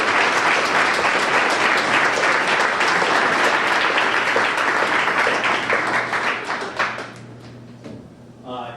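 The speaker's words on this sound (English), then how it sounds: "So let's give Chris a big round of applause." Loud, dense audience applause at a banquet, sustained for several seconds and then tapering off quickly into quiet near the end.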